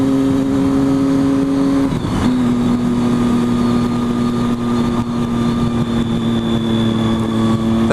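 A Triumph Street Triple motorcycle rides along a country road, its engine droning steadily and loudly up close with a brief dip and shift in pitch early on, accompanied by constant wind rush.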